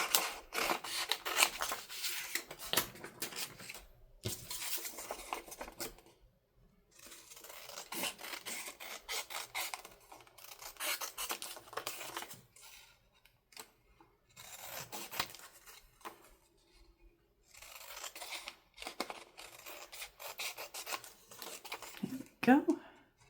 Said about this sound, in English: I'll cut them out and we'll glue those on.